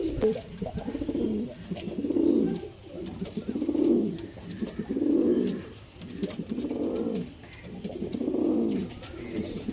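Fancy pigeons, among them Shila, Kalshira and Mastan breeds, coo in a slow repeating rhythm, each deep rolling call swelling and fading close by with no talk over them.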